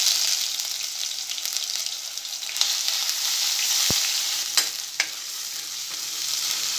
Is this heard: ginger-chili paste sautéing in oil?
yes